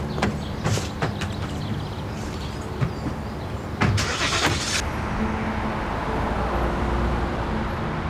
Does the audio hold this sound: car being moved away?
yes